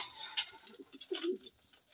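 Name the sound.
pigeons cooing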